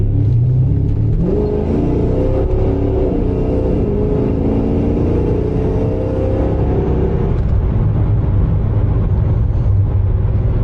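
A loud car engine rumbles steadily up close, revving up with a rising tone for several seconds before settling back into a deep idle.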